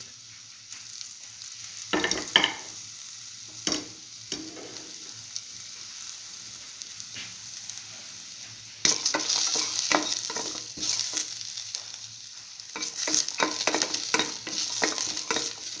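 Garlic stir-frying in a pan for a mint eggplant bread stir fry: steady crackling sizzle with bursts of stirring and scraping, quieter at first and growing louder and busier from about nine seconds on, with no talk.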